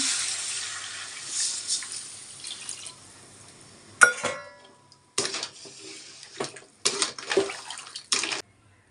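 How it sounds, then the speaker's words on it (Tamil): Water poured from a vessel into a pot of crab curry (nandu kuzhambu), a broad splashing pour at the start that thins out, followed by several short separate splashes as more water is added. "தேவையான அளவு தண்ணி ஊற்றிடலாம்"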